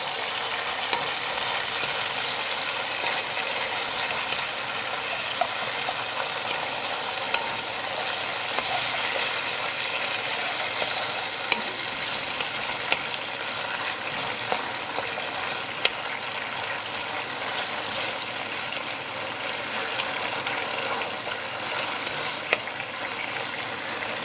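Beef being stir-fried in black bean sauce, a dense, continuous sizzle that stays loud throughout, with occasional light clicks of a utensil stirring and tossing the meat.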